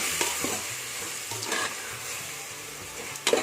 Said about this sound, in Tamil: இது எல்லாத்தையும் சேர்த்து திரும்பவும் மிக்ஸ் பண்ணி விட்டுக்கலாம்